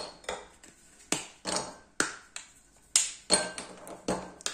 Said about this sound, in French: Je vais découper le chocolat, comme ceci.